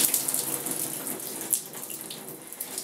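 Hot water poured over curled synthetic wig fibers, a close, steady splashing trickle that keeps running with small surges and no talking.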